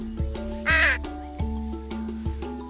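A single harsh, nasal bird call rings out once over a steady background hum with rhythmic low thumps.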